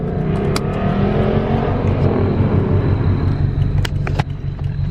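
A V6 car engine revs loudly and steadily nearby at a late-night car meet, a deep throaty drone with a brief dip near the end, plus a few faint clicks.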